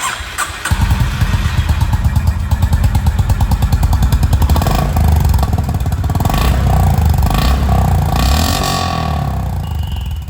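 A 2024 Honda CB350 RS motorcycle starts up, its exhaust settling into a loud, close, steady thumping idle with rapid rhythmic pulses and slight revs, no voices.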